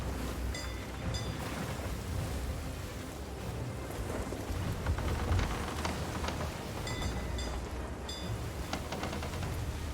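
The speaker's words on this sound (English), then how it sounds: "I'm in the storm." Rainstorm in the pirate video game Sea of Thieves, with steady heavy rain and a constant low rumble of thunder and wind across the whole stretch, a few faint bright chimes poking through now and then.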